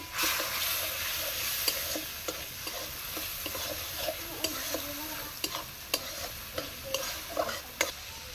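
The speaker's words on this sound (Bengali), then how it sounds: "ভালো করে ভেজে নিলাম। একটু জল দিয়ে দিলাম মশলাটায়।" Spice masala for paneer sizzles in a pan after a splash of water, a soft frying hiss with a series of sharp spoon scrapes and taps from stirring, close and fairly quiet, no talking.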